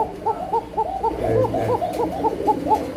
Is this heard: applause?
no